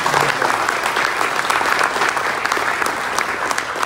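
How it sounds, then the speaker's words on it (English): An outdoor crowd at a conservation tour stop in downtown Bolivar, Tennessee, bursts into dense, continuous applause, many hands clapping steadily and close for a few seconds. "So y'all give them a round of applause."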